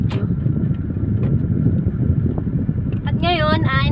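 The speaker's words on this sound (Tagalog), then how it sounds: "puro hangin lang ng aircon ang naririnig nyo" Car air conditioner blowing while driving, a steady broad whoosh of airflow with a voice speaking over it near the end.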